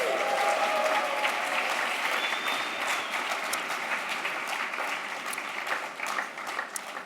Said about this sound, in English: So can we give her another round of applause?